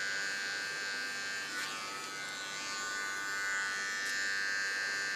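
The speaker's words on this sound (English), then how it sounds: "Don't lean hard on my clipper." Electric hair clipper trimming the fine hairs along a short pixie haircut's sideline and neckline, a steady close buzz held for about five seconds with no talking.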